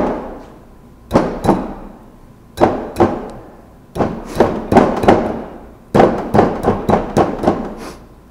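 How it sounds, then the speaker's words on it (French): Hammer strikes crack a ceramic press mold in repeated sharp, close, loud blows, mostly in quick clusters of two to five hits separated by short pauses, with no talking. "c'est pour ça même que j'ai utilisé un marteau"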